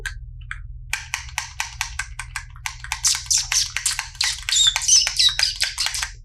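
Voice imitating bird sounds with rapid, repeated short chirps and whistles, sparse at first, then denser and louder, close and alone over a low background hum.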